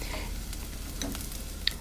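Onion and garlic frying in a pan, a steady low sizzle running continuously with a couple of small crackles and a sharp pop near the end, close and moderately loud with no talking.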